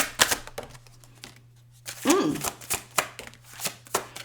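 Tarot cards being shuffled close up in quick bursts of riffling and slapping, with a pause and then a run of sharp card snaps, someone speaking briefly between them.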